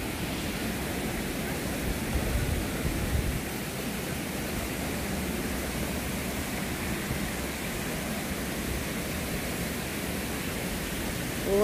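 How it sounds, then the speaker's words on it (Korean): Steady broadband rush of flowing water in a garden at Singapore's Botanic Gardens, continuous and even throughout, like a nearby fountain or stream running without pause. "물소리만 들어도 시원해."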